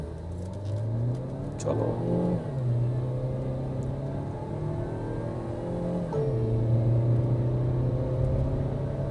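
A Tata Harrier petrol SUV in drive with sport mode on accelerates hard from a standstill. The engine note rises in a steady whir and climbs again after a shift, and someone speaks briefly at the start.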